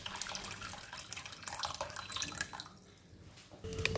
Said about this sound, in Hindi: इस बाउल को अब हम पानी से फिल कर देंगे